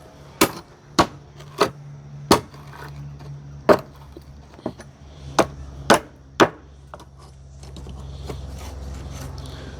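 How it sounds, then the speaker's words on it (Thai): Hammer strikes on nails in wood, about ten sharp, fairly close blows at an uneven pace over a few seconds, then a steady low background hum with no further hits. "เดี๋ยวนี่เอาค้อนตี"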